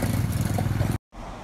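A motorcycle rides along a road on the way to a market, a close, steady engine drone with some rattling clatter, which cuts out abruptly near the end and then returns more faintly.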